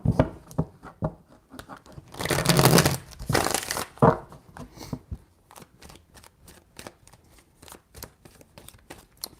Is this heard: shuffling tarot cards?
yes